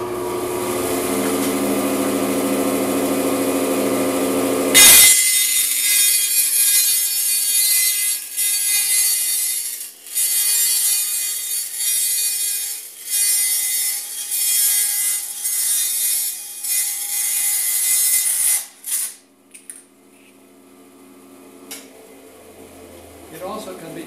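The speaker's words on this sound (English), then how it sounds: "This is easily done if you have access to a sharp bandsaw." A bandsaw runs loudly, then its blade bites into a thin metal can with a harsh, high scraping whine for over ten seconds before winding down.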